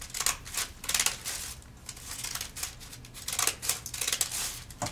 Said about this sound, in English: I'm going to trim up my paper bags to look like the wisps on the end of a broom.